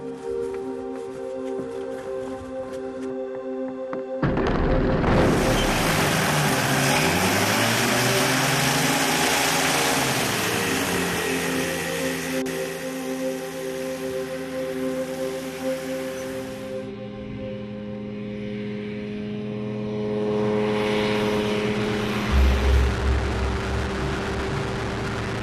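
An aircraft engine mounted up high starts with a sudden roar after a few quiet seconds, then runs steadily and loudly with a whining, shifting tone before surging again near the end, with no voices.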